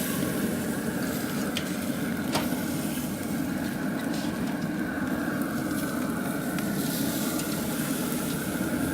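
Steak on the grill grates of a Rec Tec Bullseye grill, with a loud, steady sizzle and a low roar running throughout and a faint scrape or tap near the start.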